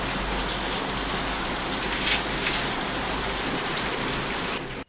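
Heavy rain pours down in Gokak, a dense, steady roar of drops hitting surfaces close by that holds evenly throughout and then cuts off abruptly at the very end.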